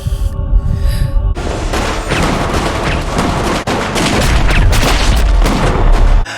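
Gunfire in a Power Book II: Ghost TV drama scene: a loud, sustained volley of close, booming shots that overlap into a dense barrage for several seconds.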